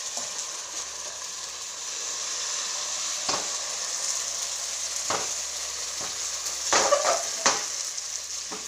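Pitha batter sizzles and fries steadily in a kadai wok, a constant hissing crackle with a few louder spits and pops near the end, no talking.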